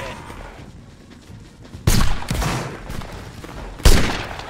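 Two sharp musket volleys crack out in a black-powder era battle game, loud bursts spaced about two seconds apart over a low background of scattered distant fire.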